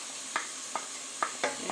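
Pineapple pieces sizzling in a hot frying pan, a steady fry hiss punctuated by four or five light clicks of a utensil stirring against the pan.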